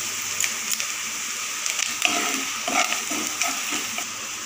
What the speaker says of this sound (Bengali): আদাটা ভালোভাবে নারকেলের সাথে ফ্রাই করে নেব।